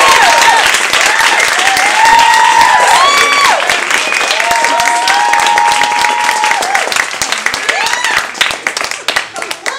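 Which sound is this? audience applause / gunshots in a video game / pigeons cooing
audience applause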